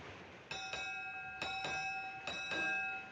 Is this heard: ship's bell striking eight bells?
yes